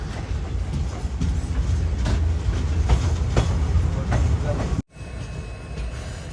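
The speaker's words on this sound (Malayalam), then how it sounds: "ട്രെയിൻ ഇപ്പോൾ സകലേഷ്പൂർ റെയിൽവേ സ്റ്റേഷനിലേക്ക് എത്തിക്കൊണ്ടിരിക്കുകയാണ്." The Vijayapura to Mangaluru special express runs through rain toward Sakleshpur station. A loud, steady rumble of wheels and carriages with faint clatter drops suddenly near the end, then continues quieter.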